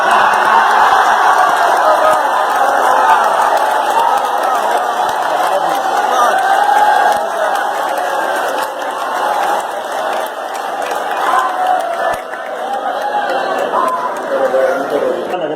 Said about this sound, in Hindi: आपकी दाद और आपके जो शोर और आपकी तालियां